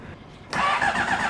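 A Honda CBR600RR motorcycle engine with no exhaust fitted fires up abruptly and runs very loud and raw, a harsh unmuffled roar that holds steady right up close.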